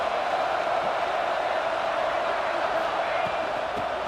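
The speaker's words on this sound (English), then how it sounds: "It's early, but this crowd is fired up. Listen to this noise here." A stadium crowd cheers early in the ISU vs UCLA football game, a steady roaring wall of noise that holds evenly throughout, loud and continuous.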